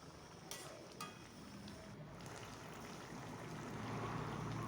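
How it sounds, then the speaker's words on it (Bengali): Koi fish being stirred in a pan while cooking a curry with kohlrabi, a steady soft sizzle and bubbling with a few light scraping touches near the start, no talk. "মাছ দিয়ে আমি একটু নাড়িয়ে দিচ্ছি যাতে মাছের ভিতর ভালো জাল হয়ে যায়"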